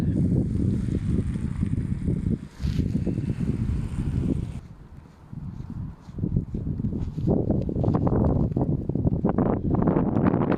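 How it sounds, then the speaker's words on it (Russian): Strong wind buffets the microphone in heavy, rumbling gusts that briefly drop off midway before roaring back, with no talking heard. "А пока аж даже ветром кидает немножко"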